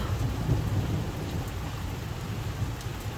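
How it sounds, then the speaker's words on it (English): Heavy rain pours down nonstop during a thunderstorm, with low rolling thunder rumbling beneath a dense, steady hiss, loud and close, with no voices. "I've never ever had thunder like this."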